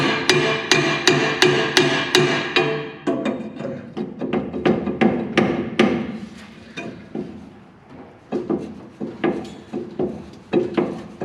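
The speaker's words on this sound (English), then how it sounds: "And then get my hammer." A hammer strikes the suspension spring plate of a 1962 VW Double Cab, with close, ringing metallic blows in a fast steady rhythm, then slower, spaced hits with brief pauses between them.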